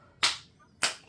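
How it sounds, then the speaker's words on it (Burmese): Two sharp, close hand claps about half a second apart, each crisp and bright with a quick decay, with no other sound in between. "ယောက်ျားလက်ခုပ်တီးပြလဲ"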